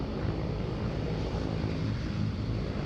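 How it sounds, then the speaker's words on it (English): Steady distant roar of a Vietnam Airlines airliner on final approach into Sydney Airport, a broad low rumble with wind noise and no break. "We've got the Vietnam A350 joining final, mate. So the Vietnam 773, she's coming in from Ho Chi Minh City."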